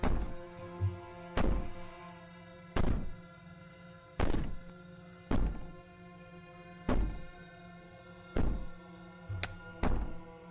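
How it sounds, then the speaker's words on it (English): Heavy thuds of someone banging on a door in the video game Slay the Princess. About eight evenly spaced, booming knocks ring out with short echoing tails over faint, steady background music. "Bang on the door all you want"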